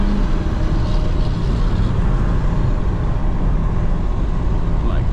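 Cabin road noise from a C8 Corvette driving through Florida traffic, heard from inside the car: a loud, steady low rumble of engine and tyres that never lets up.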